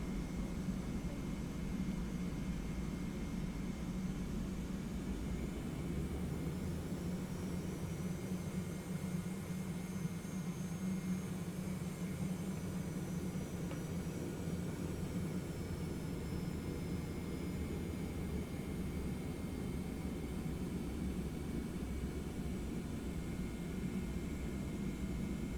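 A departing Airbus A320 jet rolls and takes off in a flight simulator. A faint, steady engine roar holds for the whole stretch, with a thin whine gliding downward midway.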